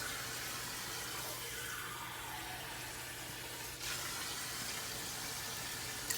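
Hot water poured cup by cup into a pot for cooking white rice, a continuous soft splashing stream that shifts slightly partway through, with no talking.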